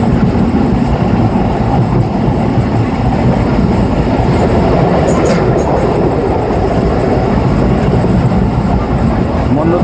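A passenger train running on rails between Parbatipur and Panchagarh, a loud continuous rumble with wheel clatter heard from inside the carriage for the whole stretch.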